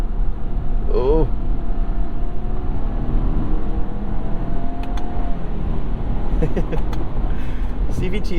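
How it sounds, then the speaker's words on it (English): A 2022 Subaru Outback Wilderness with a CVT accelerates hard in manual mode, its engine drone climbing and dropping as it simulates gear changes, with a voice talking over it. "CVT simulating gear changes is hilarious"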